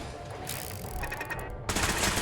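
Rapid automated turret gunfire in Fallout 4 rattles continuously at moderate loudness, growing denser near the end of the short burst.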